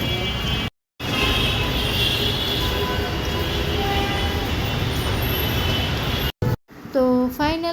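A crowded metro rail train runs steadily, a loud, continuous rumble and rush of wheels and motor heard up close from inside the car, with brief dropouts and a short voice near the end.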